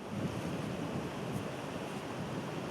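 Steady, loud rushing of river water mixed with buffeting wind as 4x4 teams ford the Crocodile River during the Bridgestone 4x4 Club Challenge, a dense continuous wash with no voices.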